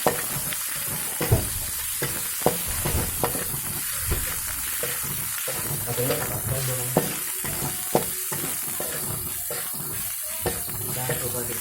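Spice paste of ground garlic, turmeric, ginger and galangal frying in a pan, a steady close sizzle broken by repeated stirring scrapes and knocks, with no talk.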